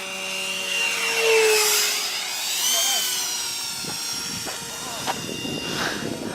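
A model RC jet comes in to land, its turbine whine sweeping up and down in pitch as it passes overhead, with people talking nearby.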